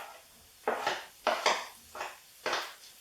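Leeks dropping into a pan of crisp fried bacon over lowered heat, heard as about five sharp bursts of clattering and sizzling at irregular intervals, spread over a few seconds with quieter gaps between.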